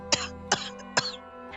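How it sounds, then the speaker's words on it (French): Three sharp, harsh coughs spaced evenly about a second apart, close and fairly loud, with a choking quality as a burning spreads through the throat; no talking. "je me mettais à tousser et à suffoquer"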